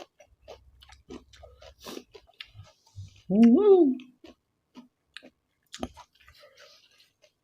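Crunchy chewing of blanched fresh squid tossed in spicy fermented fish sauce, a short loud burst of wet crisp bites up close, with quieter mouth clicks and smacks before and after.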